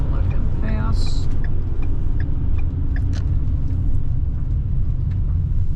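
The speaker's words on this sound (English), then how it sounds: "I have a car coming up behind me." A car approaches and passes a moving RV on a scenic byway, its steady road rumble and engine noise blending with the RV's own loud continuous drone, with a voice speaking over it.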